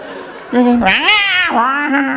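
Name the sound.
comedian imitating screaming cats on fire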